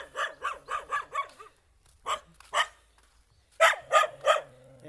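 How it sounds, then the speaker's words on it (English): An angry dog barks in loud, close bursts: a quick run of five sharp barks, a pause with a low growl, then two more barks and a final cluster of three. "You can see the dog."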